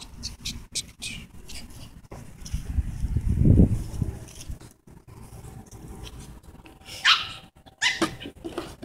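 A dog makes brief yelps and scuffling movement at mid distance, with a louder low burst partway through and short sharp sounds near the end.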